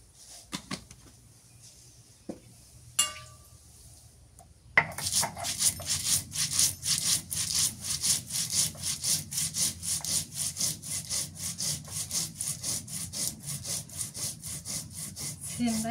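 Roasted coriander seeds being ground on a grinding stone, a few scattered scrapes at first and then a steady rhythmic back-and-forth rasping, close and fairly loud, with no talk.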